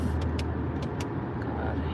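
Steady, loud road roar and tire hiss from a car driving on a freeway in heavy rain, with spray from other cars hitting the windshield and a few brief higher squeaks over the continuous wash of noise.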